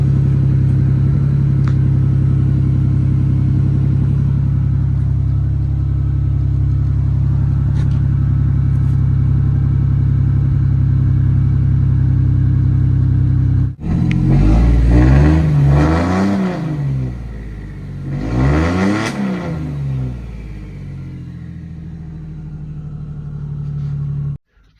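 Lexus IS300 with a swapped 2JZ engine at first startup, a loud steady idle for about fourteen seconds followed by two rising-and-falling revs, close by.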